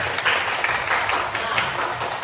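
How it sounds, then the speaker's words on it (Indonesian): Short round of classroom applause for a student group, a steady patter of many hands clapping at moderate volume with some faint voices underneath. "tepuk tangan untuk kelompok B"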